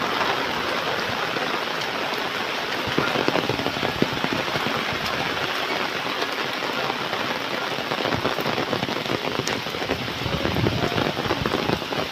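Heavy monsoon rain in the Konkan pours steadily, drumming densely on surfaces with constant close patter and no voices.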